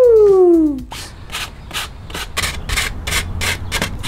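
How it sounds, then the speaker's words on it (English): Sandpaper rubs back and forth over thick dried joint compound edges on textured art, about nine short rhythmic scraping strokes after a brief whistling tone at the start. "We think we're gonna sand down some of these thick edges."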